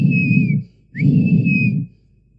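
A person whistles loudly in imitation of a child's whistle, giving two long, piercing, steady blasts separated by a short gap over a low murmuring hum.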